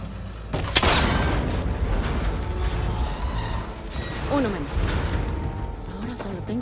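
In Horizon Forbidden West, a cable connector is shot and breaks with a sharp bang near the start, followed by mechanical creaking and rumbling while a voice talks underneath.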